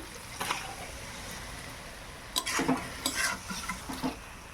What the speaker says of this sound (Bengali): মশলা খুব ভালোভাবে ভাজা হয়ে গেছে, এবার আমি মাংসটা দিয়ে দিলাম